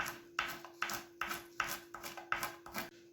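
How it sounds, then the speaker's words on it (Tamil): A knife chopping dried red chillies into small pieces on a board, a steady series of crisp close taps about every third of a second, quiet over a constant low hum. "இப்போ வந்து நாங்கள் காஞ்ச மிளகாய் சின்ன கட் பண்ணி எடுத்துக்கொள்வோம்"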